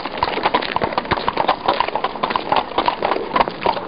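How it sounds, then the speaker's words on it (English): Horse-drawn carriage on a car-free Mackinac Island street, hooves clip-clopping in a steady, fairly close rhythm with the rattle of wheels and light street ambience around it. "The modes of transportation on the island are the horse and carriage or bicycles."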